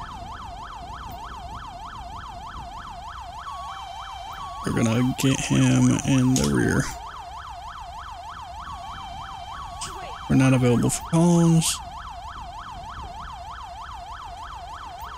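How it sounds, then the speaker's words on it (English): A wailing police siren in GTA 5 cycles steadily throughout, while people talk over it in two short bursts. "Can I disable the siren from the side?"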